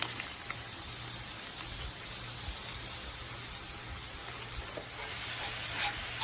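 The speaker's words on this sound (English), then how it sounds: "cook down your sausage. Cook this down. Brown it up." About two pounds of sausage brown in a pan at a tailgate cookout, giving a steady, dense sizzle with occasional crackles and stirring scrapes, close and continuous, with no talking.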